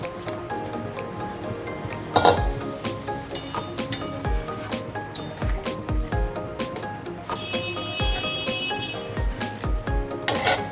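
Fried prawns go into a pan for Bengali prawn malai curry, with a run of sharp metallic clinks and utensil taps against the pan and soft squishy stirring, irregular and close.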